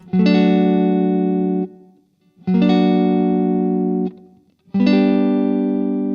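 An electric guitar strums a sustained augmented triad three times, each ringing out for a second or two before being cut, with a slightly tense, unresolved quality.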